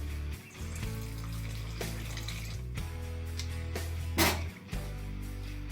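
Lukewarm water is poured onto powdered sugar in a bowl while making matlouh bread dough, a soft continuous trickle over a steady low hum, with brief dips and one short louder splash.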